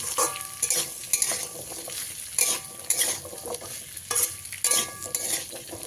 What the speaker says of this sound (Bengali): এক থেকে দু মিনিট গাজর আলু এবং বিনসটাকে আমি ভেজে নিয়েছি